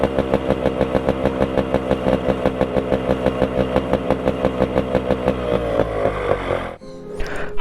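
A 1997 Yamaha RX100 two-stroke motorcycle engine running steadily with a rapid, even pulsing beat, loud and close, before the revs drop and the engine note cuts out briefly near the end.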